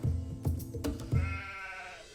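A sheep grazing in an orchard bleats loudly and close by in several quavering bursts, with no talk over it.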